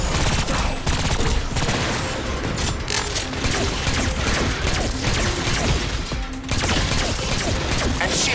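Gunfire aimed at a core in Agents of Mayhem, dense rapid shots crackling almost continuously and loudly, with booms and mechanical clatter in the chaotic battle mix.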